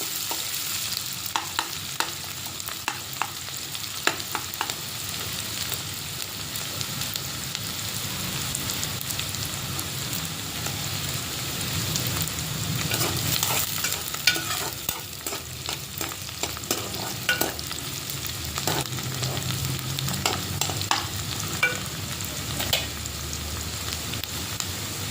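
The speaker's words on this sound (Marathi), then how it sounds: "जे तेलामध्ये कांदा तळून घेतलेला होता त्याच्यामध्येच आपण कांदा परतायला टाकलेला आहे" Onions sauté in hot oil left from frying onions for chicken dum biryani, a continuous close sizzle with frequent scraping stirs and clinks of a spoon against the pan, no voices.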